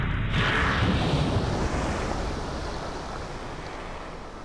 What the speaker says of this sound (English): And we'll just watch them splash down.